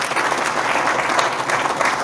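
An audience at a spiritual discourse claps continuously in dense, steady applause that fills the room at a fairly loud level without pause.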